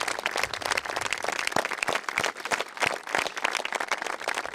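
An audience at a memorial ceremony for the victims of the Pozu Funeres mine applauds a former health minister, with dense, sustained clapping that fills the whole moment.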